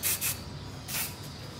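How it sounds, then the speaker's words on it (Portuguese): Hair spray hisses in short bursts onto a cascade braid hairstyle: two quick sprays close together, then a pause and one more burst, close and fairly soft. "Joga o spray"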